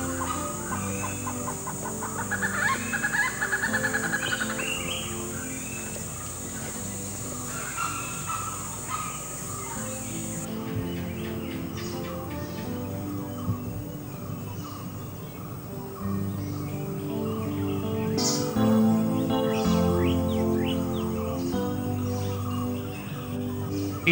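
Chickens cluck and a rooster calls amid other birds in the Thattekad bird sanctuary, a steady layered chorus at moderate distance lasting throughout with no talk.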